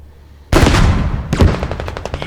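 Heavy gunfire rings out in an armored vehicle game, first a loud close blast with a long roaring tail and then a burst of rapid repeated shots, with no talk.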